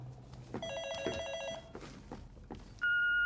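An old telephone bell rings in rapid metallic trills, with quiet footsteps and room movement between rings before a steady electronic tone cuts in.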